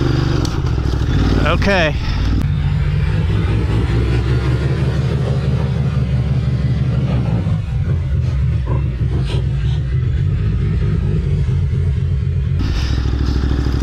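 A Ducati Desert X or KTM 890 Adventure R adventure motorcycle is ridden off-road over an obstacle in tight wooded terrain. The engine revs up near and loud, then settles into a steady chugging idle. A short spoken remark is heard.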